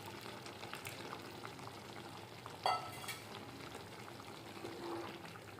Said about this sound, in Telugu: ఇలా ఉడుకుతుంది కదా, ఇందులో నిమ్మకాయ అంత చింతపండు రసం తీసుకుని పోసుకుంటున్నాను.